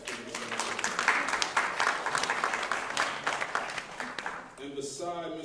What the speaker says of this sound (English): Please give a round of applause for themselves.